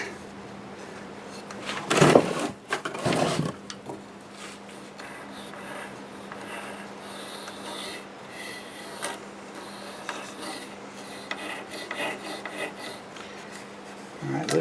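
An olive wood bowl is hollowed on a lathe. Loud, rasping cuts come first, then the motor hums steadily under lighter, intermittent scraping of the tool against the wood.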